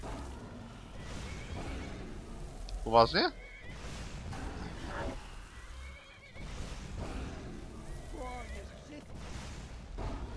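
In the video game Skyrim, a horse whinnies loudly once, a high rising neigh over busy combat sounds against a dragon and someone talking.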